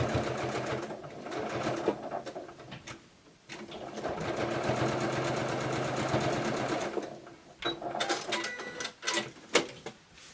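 A domestic sewing machine stitches along the edge of a scrap quilt block. The needle runs in a steady, close, rapid mechanical chatter with short pauses, then comes back in uneven bursts, with no talk over it.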